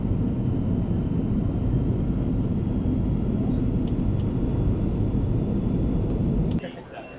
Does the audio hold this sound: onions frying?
no